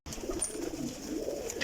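Pigeons coo steadily in a loft, a soft, continuous low burble of several birds layered close by, with faint higher chirps drifting over the top.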